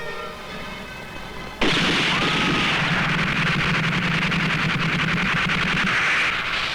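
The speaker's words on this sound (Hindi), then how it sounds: "अरे ये तो तमंचे की आवाज है भैया।" Film scene with pistol fire: after a quiet opening, a sudden loud burst gives way to sustained rattling shots and a dense noisy din that holds steady.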